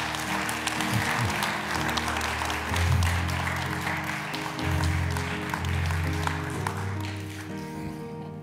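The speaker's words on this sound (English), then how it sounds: "Give them another hand clap as they come forward." Members of a Covenant church congregation give a round of hand claps, a sustained patter of applause blended with music playing underneath.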